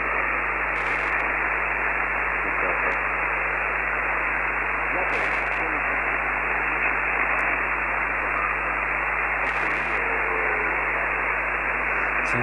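An amateur radio transmission from a contact in Africa, buried in constant hiss and static, with a faint voice barely emerging through the noise throughout.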